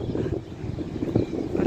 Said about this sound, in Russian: Извиняюсь за ветер, потому что сильно у нас, прям очень сильный ветер.